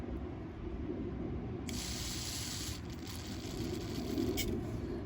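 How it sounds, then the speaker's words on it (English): Carb cleaner sprayed onto the needle of a carburetor from a 2017 Yard Machines 140cc Briggs & Stratton engine, a sharp steady hiss bursting in partway through and continuing over a constant low background rush. "put a little carb spray on it"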